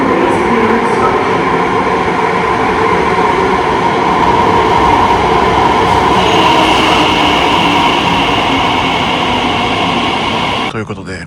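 Steady, loud rumble and hum inside an Elizabeth line train at Heathrow Airport, bound for Terminal 4. It holds at an even level throughout, with faint background voices, and eases slightly at the very end.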